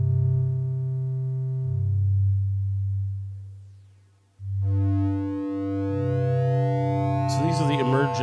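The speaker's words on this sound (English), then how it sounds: "Here's my lowest note, the sine wave, down 2 octaves." A Nord Micro Modular synthesizer holds a low, pure sine-wave note that swells, fades away to near silence, then returns, with brighter tones and a short glitchy burst near the end.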